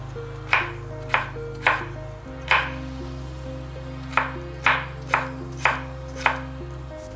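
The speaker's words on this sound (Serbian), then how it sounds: "sada ću jedan sveži krastavac koji sam prethodno oprala iseckati na što sitnije" A knife chops a fresh cucumber into small cubes, about nine crisp, evenly spaced strokes against a board, close and clear over a low steady hum.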